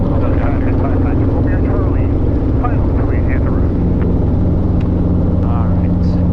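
A Robinson R22 helicopter in flight on a training lesson gives a loud, steady rotor and engine drone inside the cabin, with voices talking over it.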